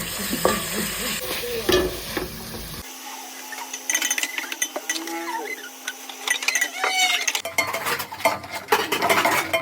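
Food sautéing in oil in a pan, a busy sizzle with vigorous stirring and clattering utensils against the pan, with brief voices in places.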